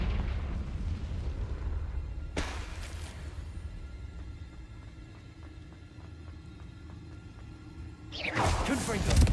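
A Confringo blasting spell goes off in Hogwarts Legacy: a sharp, loud burst near the start, then a quieter rumbling stretch, and a second heavy explosive blast near the end.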